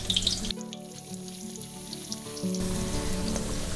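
Corn fritters (tod man) deep-fry in hot oil, a faint, even bubbling sizzle that swells slightly toward the end, heard close with no talking.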